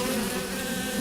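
Bees drone in a dense, continuous buzz that stays steady and fairly loud throughout, with no other sounds standing out.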